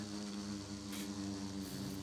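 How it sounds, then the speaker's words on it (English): A glowstone bee in a Minecraft bee-breeding mod gives a low, steady insect buzz. The drone is faint and continuous for about two seconds, with a brief hiss in the middle. "so there's our glowstone bee"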